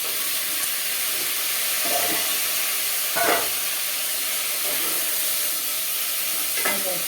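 Vegetables, mango, jackfruit seeds, tomato and drumsticks for sambar sizzle and hiss steadily in a pan, with a few clattering stirs of a spoon breaking through the constant frying noise, close up and without talk.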